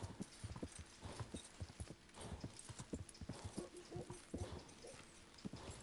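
Horse hooves clip-clop in Kingdom Come: Deliverance, a steady run of sharp, close hoof strikes repeating without pause, with occasional faint snorting and no talk.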